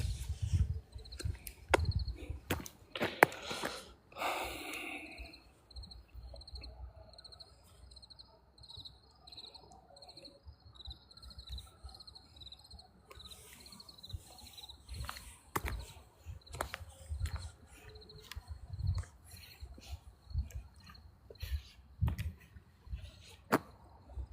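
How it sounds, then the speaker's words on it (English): Steady high-pitched cricket chirping throughout, with scattered knocks and thumps close by and faint background noise. "I think it's the crickets. The crickets are loud."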